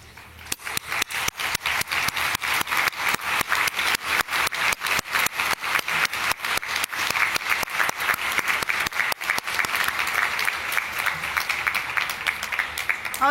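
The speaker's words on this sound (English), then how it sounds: "Graduates, please stand to acknowledge your supporters with a big round of applause." A large graduation audience gives a big round of applause, dense sustained clapping with rhythmic waves of hands near and far, loud and unbroken for the whole stretch.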